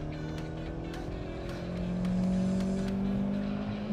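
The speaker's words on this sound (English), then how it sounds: "Come down into second gear and let's see how raucous this little three cylinder is" Small three-cylinder engine of a Kia Picanto revving hard in second gear, a steady droning tone that climbs in pitch and swells louder midway, heard from inside the car with no talk.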